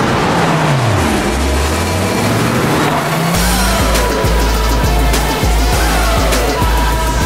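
A car engine revs hard and loud, rising and falling in pitch, then settles into a steady, throaty roar with repeated throttle bursts.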